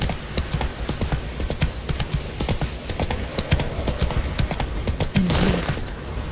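Hooves of the horse Roach clatter at a gallop in The Witcher 3, close and loud, with a quick, steady beat that runs the whole way and a short snort or whinny near the end.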